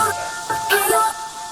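A piano phrase processed with a crystallizer, reverse effect and stereo enhancer in FL Studio sweeps in with swelling, shimmering, backward-sounding tones, brief and fairly loud.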